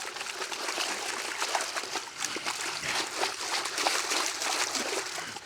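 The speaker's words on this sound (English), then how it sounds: "Splash water all over you." Water splashes and sloshes in a bucket as pea pebbles are shaken and rinsed, a continuous, fairly faint, close wet rushing with irregular splatters.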